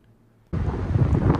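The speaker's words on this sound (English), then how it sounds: "Super windy here too." Strong gusty wind in the Great Basin bursts onto the microphone after half a second of near quiet, a loud, buffeting low roar that continues to the end.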